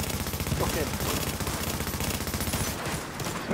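Sustained video-game gunfire in a firefight, with rapid automatic bursts rattling continuously at close range and almost no pause.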